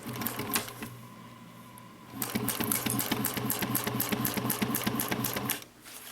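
Sewing machine back stitching a mini box tote, a short burst at first, then after a pause a steady rapid needle chatter for about three seconds before stopping.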